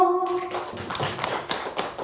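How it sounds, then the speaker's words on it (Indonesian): Applause from a room of women teachers at a training session, a brief tone fading out before a steady patter of many hands clapping fills the space. "tepuk tangan untuk semua, Bu."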